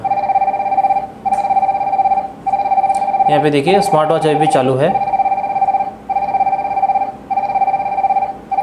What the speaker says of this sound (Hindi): तो देखिए यहाँ पे मोबाइल में रिंग हो रहा है और स्मार्ट वॉच में भी रिंग हो रहा है।